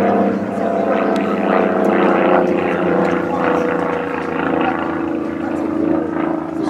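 An 80% scale Supermarine Mark 24 Spitfire replica, piloted, flies at a warbirds weekend airfield with a steady, loud propeller-engine drone that holds throughout with slight swells, no talk over it.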